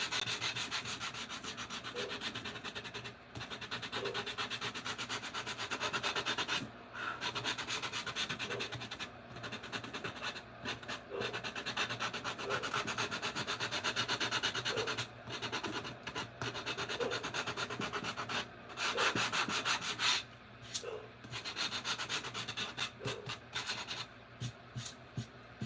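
A craft pumpkin is sanded by hand with sandpaper: close, steady rasping strokes repeat continuously with a few brief pauses between passes.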